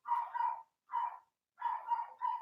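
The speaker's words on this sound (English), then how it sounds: "Apologize for the dog. She sees someone at the door." A dog barks at someone at the door in three short bursts of muffled, repeated barks with brief pauses between them, heard alone at moderate distance.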